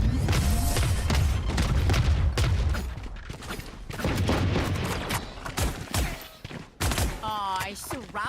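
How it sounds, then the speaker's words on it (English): A barrage of missile explosions in the shooter game Valorant, dense booming blasts and crackling bursts that fade and return, with a voice speaking over part of the barrage. "All missiles away."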